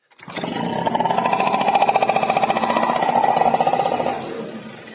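A Keeway Hurricane 50cc two-stroke scooter fires up after a cylinder and piston replacement and runs with a loud, steady, rapid buzzing idle for about four seconds before dropping to a quieter rattle.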